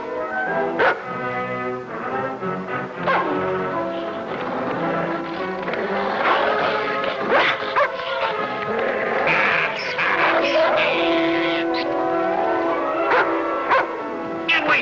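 A dog barks and whimpers repeatedly in a rural Western setting, with yips and whines close and loud over continuous background music, with some talk mixed in.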